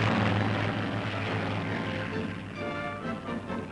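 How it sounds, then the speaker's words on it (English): Wartime fighter planes, propeller-driven, taking off from an aircraft carrier deck: a loud, steady engine roar that fills the whole stretch without letting up. "fighter planes take off to attack."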